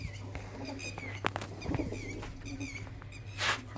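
Soft, low cooing of pigeons repeating over a quiet background, with a few brief scratchy noises and a short breathy burst near the end.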